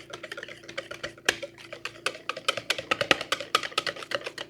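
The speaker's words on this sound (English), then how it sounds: "Mix all this up good." Apple fritter batter with sugar and oil being stirred in a bowl, a steady run of quick clicking, scraping strokes from the spoon against the bowl, close and moderately loud with no talking.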